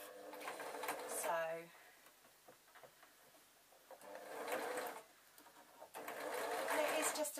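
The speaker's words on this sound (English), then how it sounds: "I am just going to start sewing in the other foot" A sewing machine stitches a foot onto a fabric zebra draft excluder, running in a few bursts of rapid mechanical whirring with pauses between, close up and moderately loud, while a person talks quietly around the stitching.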